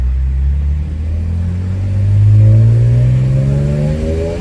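A BMW E46 M3 engine drones loud and close from inside the moving car, revving upward through a gear with rising pitch, a steady deep rumble throughout.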